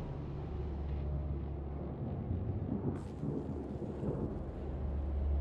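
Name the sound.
thunderstorm in the video game Mass Effect: Andromeda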